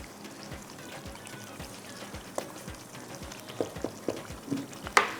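Chicken frying in a pan while being stirred, a low crackling sizzle broken by repeated soft scraping and clinking strokes of a spoon, close and fairly quiet with no talk.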